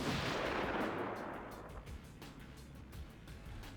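SAS troops fire from a line in the real-time strategy game Act of Aggression, giving a rapid run of distant gunfire bursts over a rumbling boom that fades after the first second.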